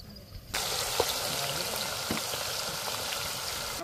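Food sizzling in a frying pan in a home kitchen, a steady crackling hiss that starts abruptly and continues alone at moderate level.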